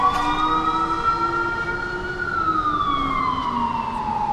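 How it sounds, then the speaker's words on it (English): Wailing ambulance siren on a rainy downtown Manhattan street in New York City, rising and falling steadily across the whole stretch, fairly close and loud over the wet traffic hum. "Wow, what's all these sirens?"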